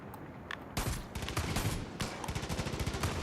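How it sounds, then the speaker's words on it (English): Rapid gunfire bursts from the Far Cry 5 video game, a dense, loud volley of overlapping shots and automatic fire continuing throughout, with no talking. "I'm shooting my friends to save them."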